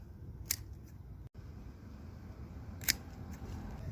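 Garden pruners snip through rose stems with two sharp, crisp clicks spaced a couple of seconds apart over faint background hiss, close and quiet.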